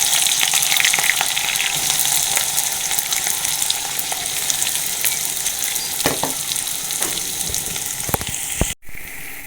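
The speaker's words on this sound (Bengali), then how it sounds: "তেল গরম হয়ে গেছে। তেলটা এবার পেঁয়াজটা দিয়ে দেবো।" Chopped onions frying in hot oil for chicken biryani, a loud dense close sizzle with occasional scraping stirs, cutting off sharply near the end before a quieter sizzle resumes.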